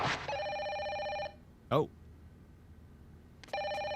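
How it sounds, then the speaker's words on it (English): A phone rings inside the horror game Fatal Frame 5 in two electronic bursts, one at the start and one at the end, with a short voiced exclamation in the quiet gap between them. "Our phone's ringing."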